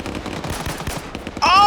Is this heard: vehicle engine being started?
no